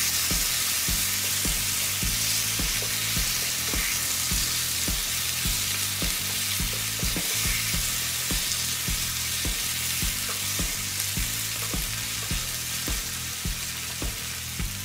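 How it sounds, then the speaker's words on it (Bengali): Chicken pieces with turmeric fry in a pan, giving a steady loud sizzle broken by regular scraping and stirring strokes throughout, with no talking. "তখন আমি হলুদ দিয়ে আবারও নাড়াচাড়া করে মুরগির মাংসগুলো ঢেলে দিব প্যানের মধ্যে এবং নাড়াচাড়া করে নিব"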